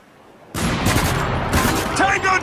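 Gunfire from the Spec Ops: The Line shooter game, a loud burst of shots starting abruptly after a quiet moment and continuing in dense rattling volleys, with game voices mixed in.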